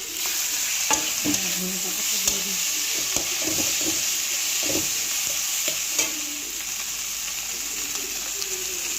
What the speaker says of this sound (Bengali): এইবার আমি ডিমের ঝুড়িগুলো মিশিয়ে দেবো